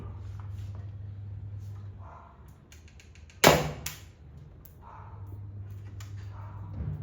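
A single sharp crack from a gun fired at a balloon rings out once over a quiet low hum, fading quickly.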